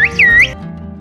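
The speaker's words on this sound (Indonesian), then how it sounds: "Suara siulan ini terdengar jelas di udara, melintasi lembah pegunungan" A Kuşköy villager sends a loud, high-pitched whistle in the local whistled bird language, a brief rising-then-sustained tone that cuts off sharply after half a second.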